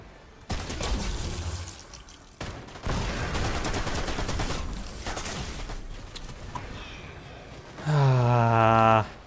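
Gunfire in Fortnite, a dense barrage of loud shots and bursts running almost continuously, with a pause near the start and a sharper tonal blast at the end.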